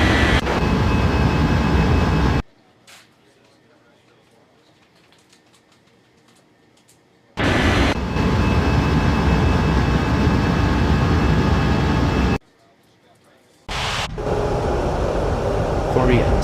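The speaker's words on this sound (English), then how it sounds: "Korea 7113, cleared for takeoff runway 13 right." Jet aircraft engines roar loudly in steady blasts in Unmatched Air Traffic Control, each rushing surge cutting off abruptly between quiet gaps where faint background sounds remain.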